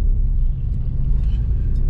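A car driving around a council estate in Mearside, heard from inside as a loud, steady low engine and road rumble with no break.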